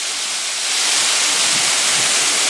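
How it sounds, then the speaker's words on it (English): Water splashing steadily from a small fountain in a Budapest park, a continuous broadband rush that swells slightly after the first second and carries on evenly with no talk over it. "There's a pretty little water feature in there"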